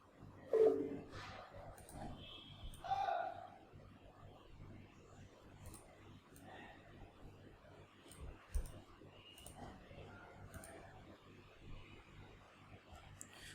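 A computer mouse clicks in SOLIDWORKS during sheet metal work, with a few sharp isolated clicks spread out over quiet background.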